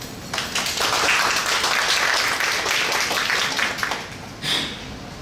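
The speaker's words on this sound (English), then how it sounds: "Please give a round of applause." Steady applause from a conference audience fills the room, a dense wash of many hands clapping that holds evenly before tapering off near the end.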